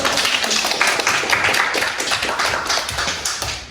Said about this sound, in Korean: 우리 박수로 이창렬